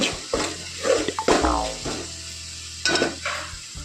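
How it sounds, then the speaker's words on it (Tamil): Chilli powder, turmeric and spices sauté in plenty of oil in a pan, a soft sizzle broken by several close scrapes and clinks of a spoon stirring against the metal. "நல்லா வதங்கிடுச்சு"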